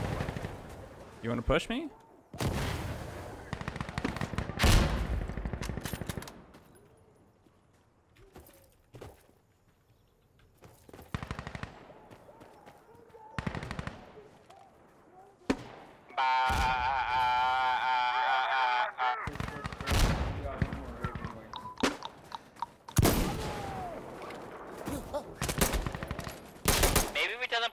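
Gunfire from the tactical shooter Insurgency Sandstorm, with sharp bursts of automatic fire and single shots broken by pauses and a sustained loud stretch, and someone speaking at times between the shots.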